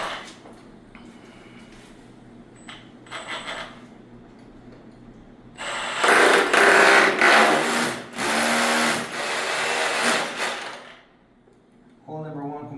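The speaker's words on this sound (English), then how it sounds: "This is concrete, so like I said, we're going to use a bigger drill." A large drill bores a hole into concrete during installation of a Knox Box DoorKing 1401-080 fire department access box, grinding loudly in two bursts after a quieter stretch, with brief talk near the end.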